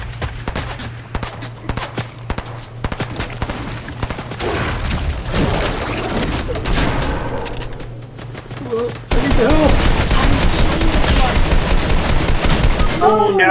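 Rapid bursts of gunfire from a Fortnite Chapter 2 Season 8 match crackle loudly and almost without pause, growing denser and heavier in the last few seconds.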